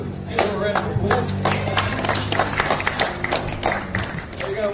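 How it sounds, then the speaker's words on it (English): An audience at a New Zealand sheep farm show gives a round of applause, a burst of scattered hand clapping with a voice talking over it. "Give her a round of applause."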